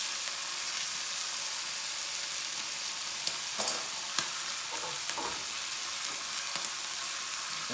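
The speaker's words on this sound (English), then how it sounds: "Next, we're going to put in some bacon. Now, based on the sizzle, you can see that there's good temperature in the fry pan." Bacon sizzling in a hot frying pan, with a dense, steady crackle and hiss throughout and a few sharper pops and stirring scrapes near the end, close up and without talk.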